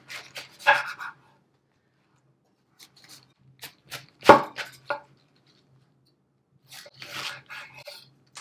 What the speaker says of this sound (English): And I'm going to cut this in quarter